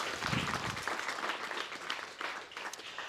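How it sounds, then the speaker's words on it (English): Wedding guests applaud during a father and mother of the bride speech, a full burst of close clapping that swells early and then gradually tapers off over about three seconds. "big round of applause"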